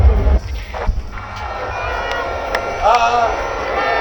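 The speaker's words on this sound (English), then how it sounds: "let's all give a huge round of applause!" A dense outdoor crowd roars and cheers steadily, with voices rising over a constant wash of noise, at a packed New Year's Eve fireworks gathering.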